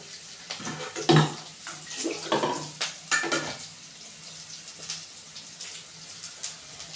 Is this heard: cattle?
no